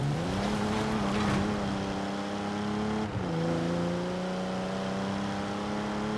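A Japanese supercar with an upgraded engine revs hard in Forza Horizon 4, a loud sustained engine tone holding steady, dipping briefly as it shifts, then climbing again with no talking over it.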